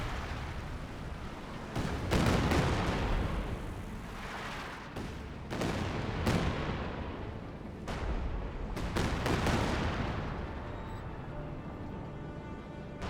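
A British artillery barrage pounds the battlefield in Company of Heroes, with sharp booming impacts arriving in irregular clusters, several heavy blasts close together and echoing tails between them.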